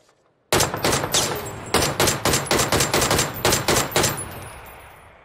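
Sharp, loud automatic gunfire from PUBG on the Erangel map, fired as a rapid string of close bursts that begins abruptly after a short silence and rings out at the end.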